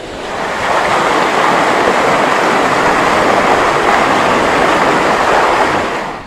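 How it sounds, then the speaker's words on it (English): A waterfall near a lake at a Catskill mountains campground gives a steady, loud rushing roar of falling water that swells in and holds evenly without a break. "Sounds like there's a bit of a waterfall over here."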